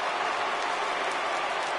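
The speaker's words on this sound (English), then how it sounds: "the rain starting to intensify here. It's coming down a little heavier now." Steady, dense rain hiss falls in a baseball game in MLB 18 The Show, filling the background evenly with no talking heard.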